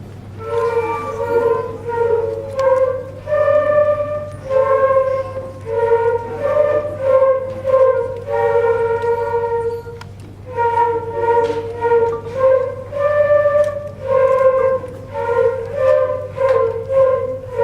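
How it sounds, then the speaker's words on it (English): Children's flute section playing the French folk tune Au clair de la lune at a school winter band recital, a steady melodic line of breathy tones in phrased notes with a low hum underneath. "The flutes over here, there's a lot of flutes at Walnut Road. And they're going to play Au clair de la lune"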